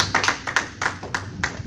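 A church congregation at a Sunday service claps hands in a loose, uneven rhythm, roughly seven distinct claps, close and moderately loud, with a faint low murmur beneath.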